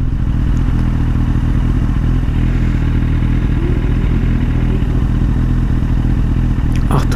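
A Lamborghini Aventador driving on the road, heard from a motorcycle: a loud, continuous engine roar mixed with heavy wind and rumble throughout, with no talking.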